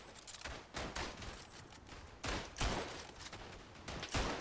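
Rifle fire in the First World War shooter Verdun, with French and Commonwealth troops sniping at Germans: a string of sharp, fairly close shots at irregular intervals over faint background battle noise.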